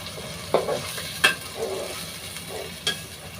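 Ginger and green chili paste fry with spices in a pan, a soft continuous sizzle broken by several short scraping stirs of a utensil against the pan, heard close with no talking.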